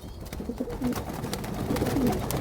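Several king and Roman breed pigeons coo softly nearby, giving a few low murmuring calls over faint background noise.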